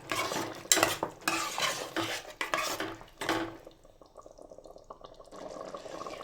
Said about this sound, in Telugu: ఇదంతా ఇప్పుడు ఒకసారి కలుపుకుందాం